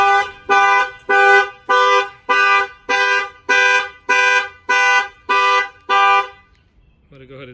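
A Chevy truck alarm in panic mode blares about eleven loud, evenly spaced horn-like blasts, each roughly half a second long, before stopping abruptly; a faint, quieter tone follows at the very end.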